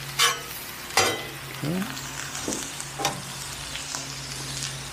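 Butter sizzles on a hot Blackstone griddle as a spatula spreads it around, a steady frying hiss broken by sharp metal scrapes and taps, with one brief spoken word.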